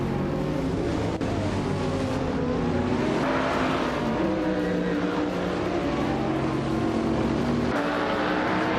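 A 2022 McLaren Elva race car in a racing video game, its engine droning loudly and continuously with shifting pitch as it accelerates and changes gear, with no voices.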